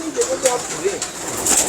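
Pigeons crowd a market building in Taxila, Pakistan, giving low, soft coos in short repeated bursts with faint wing flutters, heard nearby over a murmur of background noise.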